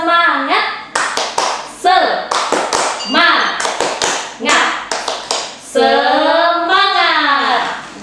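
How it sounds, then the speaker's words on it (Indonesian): An Indonesian primary-school teacher leads a class through a rhythmic spirit-clapping chant, sharp hand claps and taps alternating with loud sung and chanted voice phrases over about eight seconds. "Tepuk semangat"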